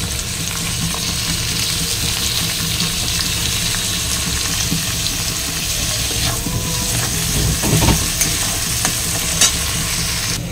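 Chopped tomatoes hit onions already fried deep red in a pan for prawn biryani, giving a steady close sizzle with stirring scrapes and a few brief clinks, no talking.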